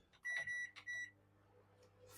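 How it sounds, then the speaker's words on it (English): Two clear electronic beeps from a microwave oven after heating on full power, each short and sharp, followed by quiet background noise. "So we put that in the microwave on full heat"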